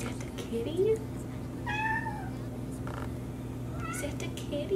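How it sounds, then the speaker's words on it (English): A house cat meows a few times, with short, rising calls that are fairly close, over a steady low indoor hum. "Is that the kitty?"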